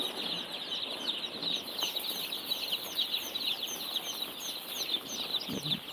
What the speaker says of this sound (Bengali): এই যে তিন দিন চলে ফার্মে মুরগির বাচ্চা আছে এখানে